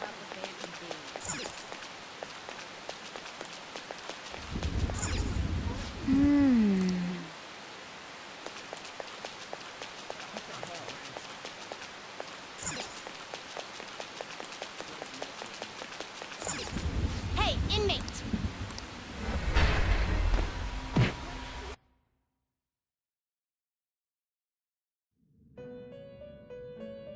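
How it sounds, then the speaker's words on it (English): Heavy rain in the Persona 5 Royal video game, a steady dense downpour lasting most of the stretch with occasional louder swells and low rumbles, then cutting to silence near the end, with voices speaking over it. "It's raining really hard."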